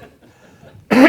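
A single loud, harsh throat-clearing burst arrives abruptly near the end, following a stretch of quiet low room noise.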